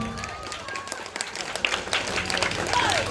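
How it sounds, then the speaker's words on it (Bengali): An audience claps at a magician's stage show during a Jagaddhatri Puja event in Howrah, with scattered, moderate applause building under someone talking through a microphone. "একবার জোরে হাততালি হয়ে যাক।"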